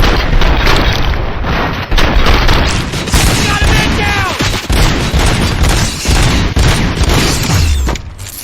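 Rapid gunfire in Robocop Rogue City, dense loud shots and booming impacts filling a chaotic firefight, with brief mechanical clatter and shouting voices in the mix.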